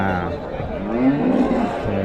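Holstein Friesian calves at a busy cattle market, with faint lowing under a steady crowd murmur and nearby voices talking throughout.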